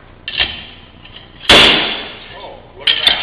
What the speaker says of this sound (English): little slide hammer.